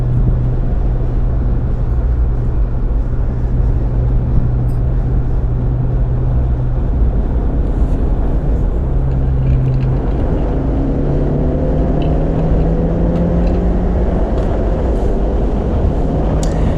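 A car at Eagles Canyon Raceway drives down the back straightaway, its engine a loud, constant drone heard from inside, with the pitch climbing steadily as it accelerates.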